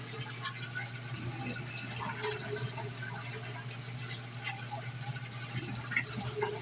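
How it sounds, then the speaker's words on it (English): A GE Hydrowave washing machine drains its rinse water, a steady low gurgling rush with a constant hum under trickling and bubbling, close and moderately loud with no voices. "it's timed through its rinse cycle, and it's going to drain that water out"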